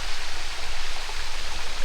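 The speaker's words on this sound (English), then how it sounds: "You can't really see the little waterfall that's underneath the bridge" Small waterfall beneath a bridge, giving a steady, close rush of flowing water with no voices.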